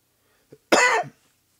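A single sharp cough, close and loud, preceded by a faint short throat sound, then silence.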